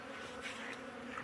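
Honeybees being fed honey on a snowy day, their buzzing a steady close drone of many wings humming together, moderately quiet, with no voices.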